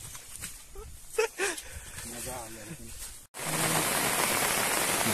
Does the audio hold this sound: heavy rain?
yes